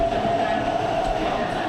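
An MTR train runs at Tai Po Market Station in Hong Kong, giving a steady loud hum and rumble with a sustained whine, continuous and close throughout.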